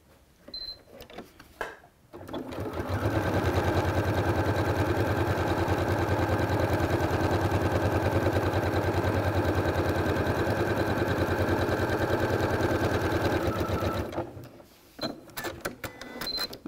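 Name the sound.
sewing machine quilting lines with walking foot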